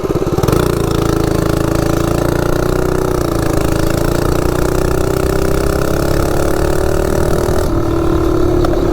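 A Baja Warrior minibike with a 12-tooth output shaft sprocket accelerates from a standstill to 30, its small engine revving up in one sustained, steadily rising drone, loud and close, with a brief shift in pitch near the end.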